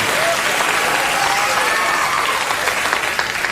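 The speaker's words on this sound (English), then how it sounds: "Your applause doesn't help here." A studio audience claps and cheers in a dense, steady burst of applause that holds at full strength throughout and fades slightly at the end.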